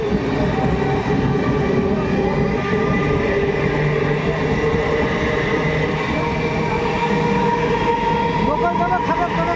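Bhagirathi Express running between Sealdah and Berhampore Court in the evening, a steady continuous loud rumble of the moving train with faint rail tones throughout.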